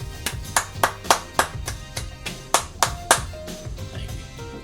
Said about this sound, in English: He was the only one clapping.